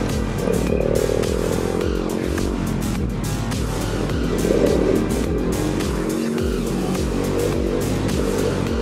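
Motorcycle lapping a race track, the engine droning and shifting pitch continuously at close range, loud and steady throughout with slight rises as it accelerates through corners.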